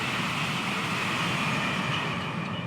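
Pendolino train rushing past in Train Sim World 6 on the Trent Valley route, a steady loud broadband roar throughout with no distinct breaks, alone without talk.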